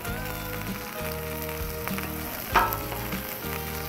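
Food sizzles steadily on a hot Blackstone griddle while a patty melt is cooked, with a loud continuous crackle and a brief sharp scrape of a spatula partway through.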